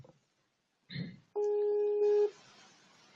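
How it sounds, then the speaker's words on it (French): Skype call ringing out on a computer, a short blip followed by a single sustained electronic tone that cuts off into quiet room noise. "je vais l'appeler sur Skype directement et vous me direz si vous l'entendez"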